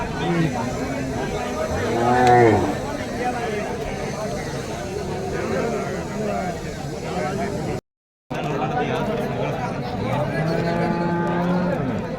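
Hand-milked dairy cows at a cattle market moo several times, with one loud low call early and more drawn-out calls near the end, over steady crowd chatter and nearby voices.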